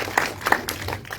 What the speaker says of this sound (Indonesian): kita kasih tepuk tangan dong teman-teman media